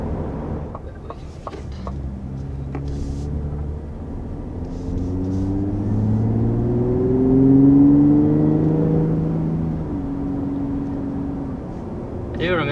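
A 2021 Ford F-150 Raptor pickup's engine climbs in pitch as it accelerates, a loud throaty drone from an enhanced exhaust that swells and then settles, heard from inside the cab.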